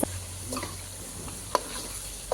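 Chicken fry being stirred in a pan at home, with a soft, steady sizzle under a few sharp scraping clicks of the spoon near the start, middle and end.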